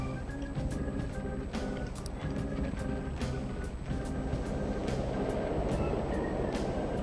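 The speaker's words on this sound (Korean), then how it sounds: "열차도 다니네?" A train rumbling past in the video game Persona 5, a steady dense roar with repeated rhythmic clacks and metallic ticks throughout, loud and continuous, with no talk over it.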